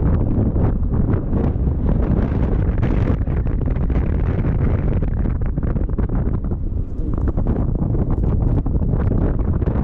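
Steady, loud wind buffeting a microphone while riding a newly bought electric scooter at roughly 40 km/h through a village, a continuous roar with gusty fluctuations and no talk.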